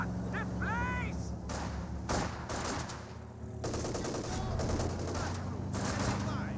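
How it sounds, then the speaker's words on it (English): Automatic MG-34 machine gun fire in the Company of Heroes 2 battle game, loud rapid bursts crackling over dense battlefield noise, with other gunfire and explosions layered throughout. "Oh, the MG-34"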